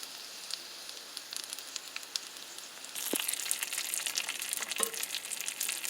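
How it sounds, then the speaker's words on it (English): Spinach sautéing in a frying pan for an omelette, a soft steady sizzle that swells louder partway through, with a couple of faint utensil scrapes against the pan. "we're going to saute the spinach in the frying pan"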